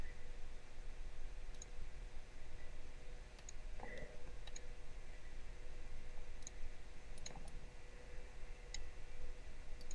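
Computer mouse clicks while editing in Photoshop, sparse sharp clicks scattered through steady background hiss, with a more distinct pair of clicks near the middle and no talking.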